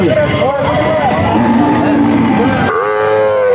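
A white Khillar breed cow from Sangola lows at a livestock exhibition in Solapur. A few moos rise and fall under steady crowd chatter and people talking nearby.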